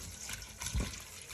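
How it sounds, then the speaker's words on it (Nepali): Tap water runs and splashes over mushrooms being rinsed, a faint, uneven gurgle of pouring water close by with no speech. "मैले चाहिँ धारामा लगेर मजाले छलछल्ती पखाले"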